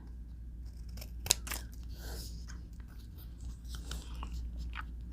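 Scissors trimming excess paper off a lap book piece, with one sharp snip standing out near the middle and a few softer cuts and paper rustles around it, close by over a steady low hum.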